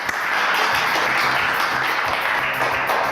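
Audience applause at a French variety show, a steady dense wash of clapping held at even loudness throughout, no voices over it.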